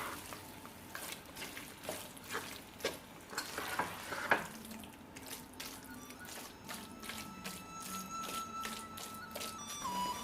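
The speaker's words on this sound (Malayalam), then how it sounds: "ഇത് നന്നായിട്ട് മിക്സ് ചെയ്തെടുക്കണം" Fried prawns stirred into a sizzling biryani masala, with quiet repeated scraping and squishing strokes over a soft frying crackle, close and fairly faint.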